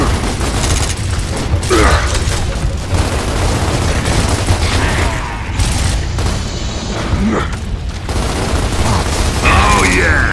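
A frag grenade is thrown and explodes in the video game Gears of War, its blast buried in a dense, continuous mix of battle noise, mechanical clatter and gunfire.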